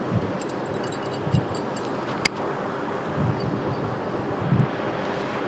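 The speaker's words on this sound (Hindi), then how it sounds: "पानी बहुत तेज गिर रहा है।" Heavy rain pours down steadily as a dense, even hiss, with faint low thumps scattered through it and no voices.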